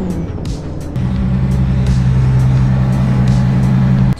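A 2JZ-engined Toyota Supra runs steadily at idle after being repaired, a loud, even low drone with a step up in level about a second in, alone with no voices.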